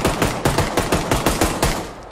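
Automatic gunfire in the video game Generation Zero, a rapid burst of about a dozen evenly spaced loud shots, close and unaccompanied by talk.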